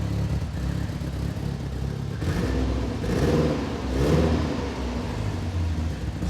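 A VW Golf mk2 fitted with a 2.0 16V engine idles steadily, then rises in two short throttle blips that swell and fall back, close and fairly loud with no talking.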